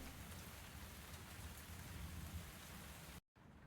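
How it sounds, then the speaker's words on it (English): Steady, dense rain pours down during a storm in the cozy tavern game Tavern Talk, a constant soft hiss with low rumbling beneath that cuts off abruptly near the end, then resumes more faintly. "It's pouring a storm."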